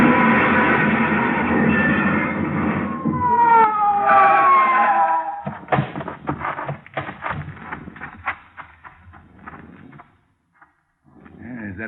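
A wailing police car siren sweeps up and down over loud engine noise, then gives way to scattered clattering and banging before a brief silence.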